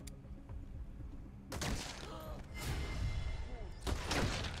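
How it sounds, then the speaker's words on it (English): Gunfire from the video game Metal Gear Solid V: The Phantom Pain crackles in several sharp bursts and rattling volleys, moderately loud against a low ambient bed, with mechanical clanks between shots. "I'm going in with open gunfire."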